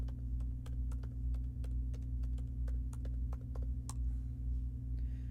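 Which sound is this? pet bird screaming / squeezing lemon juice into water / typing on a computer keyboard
typing on a computer keyboard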